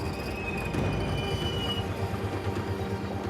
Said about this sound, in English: You can see our train up there, right above us.